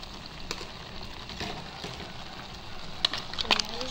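Buttered mussels and shrimps with oyster sauce sizzle in a pan while being stirred, a steady frying hiss with scattered scraping clicks and a few sharper taps near the end.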